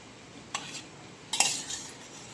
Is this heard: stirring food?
yes